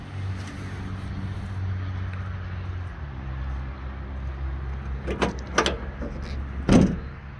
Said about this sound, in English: Doors shut excellent.